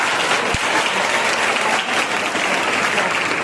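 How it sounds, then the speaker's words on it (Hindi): Loud, sustained applause from a crowd at a college annual function award ceremony, dense and continuous, with a single thump early on and faint voices mixed in. "एक बार जोरदार तालियां"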